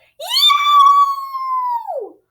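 A human voice imitates a coyote's yipping howl: one long, loud, wavering cry that starts with a sharp rise, holds steady, then slides downward and fades, heard alone.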